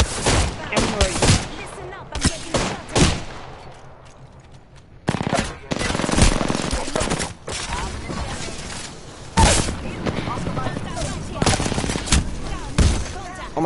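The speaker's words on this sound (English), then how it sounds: "Listen up, I'm getting shot." Loud, close automatic gunfire in Apex Legends comes in dense rapid bursts, including flatline and Mozambique fire, with heavy impacts and a brief lull partway through.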